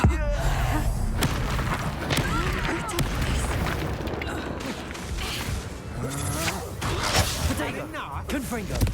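Confringo fire spell blasts in the Hogwarts Legacy video game: dense, rumbling booms and thuds crowd a busy battle mix, with game voices underneath.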